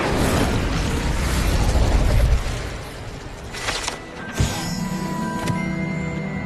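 Casting the Incendio fire spell in Hogwarts Legacy unleashes a loud roaring burst of flame that fades after two seconds, followed by sharper pops, a crackling thump and lingering magical ringing tones, close up with no speech.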